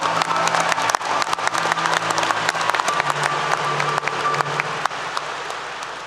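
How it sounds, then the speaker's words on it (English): An audience at a 2022 commencement ceremony claps in sustained, dense applause throughout, loud and even with no speech over it. "let's please applaud for all those who supported you along the way."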